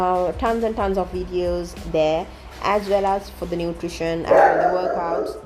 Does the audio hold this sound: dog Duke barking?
yes